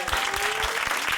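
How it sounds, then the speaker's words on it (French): Brief, dense burst of audience applause during a French radio live show, loud and steady throughout with a faint low tone underneath. "Un grand, s'il vous plaît, tonnerre d'applaudissements pour Tilac."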